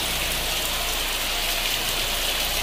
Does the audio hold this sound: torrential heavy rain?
yes